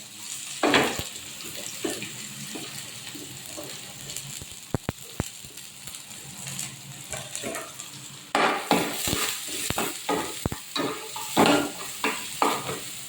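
Onion and garlic sautéing in hot oil give a steady frying hiss, broken by sharp clinks of a utensil against the pan. The sizzle swells louder after the midpoint with busy stirring scrapes.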